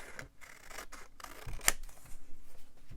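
Scissors snip through a paper spider cutout for a dark Halloween journal in a few quick, close cuts with soft paper rustling between them, no talking.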